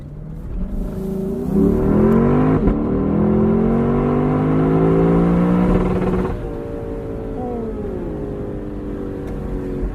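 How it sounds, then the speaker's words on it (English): A 2021 Lexus LC 500 Convertible engine climbs hard and holds against the rev limiter for several seconds with a loud, layered roar, then drops away into a lower, steadier drone. "And that has got to be one of the most intoxicating rev limiters on sale today."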